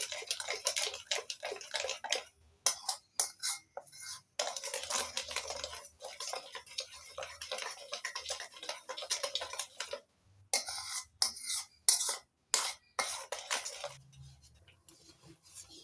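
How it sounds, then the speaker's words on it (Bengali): Mango pulp is mixed with sugar, salt and cornflour, giving soft, uneven scraping and stirring strokes close by. The strokes come in bursts broken by short pauses. "চিনি লবণ কর্নফ্লাওয়ার আর আমের কাজ সব একসঙ্গে ভালো করে মিশিয়ে নিচ্ছি"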